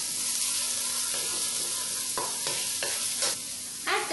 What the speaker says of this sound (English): Add the chopped onion and sauté well.